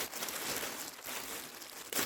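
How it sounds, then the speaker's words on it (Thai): A plastic bag crinkles and rustles steadily as it is pulled over a bucket of picked blueberries outdoors in Finland during light rain, close and continuous, with a sharper crackle at the end and no talking. "เอาถุงมาปิด"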